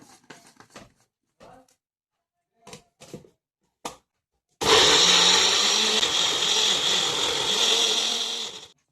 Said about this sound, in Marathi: आणि आपण आता ह्याला एकदम बारीक पेस्ट करून घेते, एकदम पातळ.